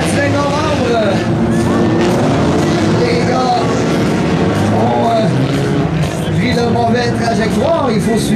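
Spectators at an amateur jalopy car race shout and holler loudly, a dense, continuous mix of raised voices close by with rough background noise.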